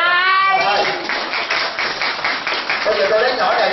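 A crowd at a dharma talk gathering in Fayetteville, Georgia breaks into dense, steady hand clapping that builds quickly and carries on for several seconds, with voices mixed faintly into the applause.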